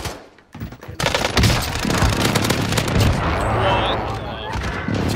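Enemy precision airstrike explosions in a shooter video game, heavy booms and rapid gunfire blasts rolling continuously after a short quiet start, loud and dense throughout.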